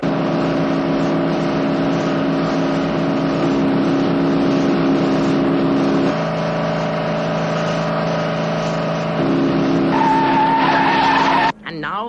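Race cars battling neck and neck to the finish line, heard as a sustained loud engine roar with shifting pitch and a rising whine near the end, cut off abruptly, under a commentator's voice.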